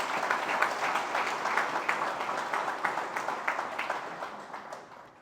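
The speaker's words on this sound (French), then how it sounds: "Ici, ils méritent donc vos acclamations et ovations." An audience at a gathering of security committees and customary chiefs in Lualaba breaks into warm applause, a dense crowd clapping with rhythmic swells that gradually fades.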